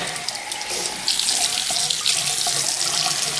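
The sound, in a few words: tap water rinsing a makeup brush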